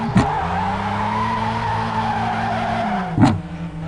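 A car skidding and drifting in the Assoluto Racing sim game: a sustained tyre squeal over a steady engine drone, loud and close, with a sharp impact-like burst near the start and another near the end.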